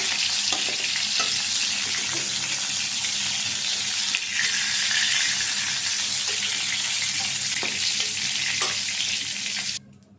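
Chicken meat fries in a pan with a steady, close, hissing sizzle, broken by occasional clinks and stirring scrapes, before it cuts off abruptly near the end. No one speaks.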